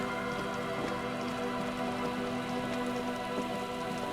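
Steady rain falls in the video game Disco Elysium, a dense patter on surfaces, quiet and continuous, with faint music underneath.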